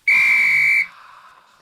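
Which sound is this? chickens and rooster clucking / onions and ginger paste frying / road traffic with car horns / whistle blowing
whistle blowing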